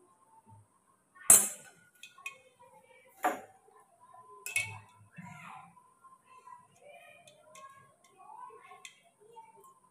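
A small steel container lid clinks against metal as it is lowered into hot oil for malpua. The clinks are sparse and faint, one sharper knock near the start followed by lighter taps, with a voice talking quietly underneath.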